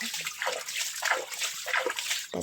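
Water poured and sloshing into a pot of washed turmeric, several gurgling splashes in quick succession, close and fairly loud, ending with a knock.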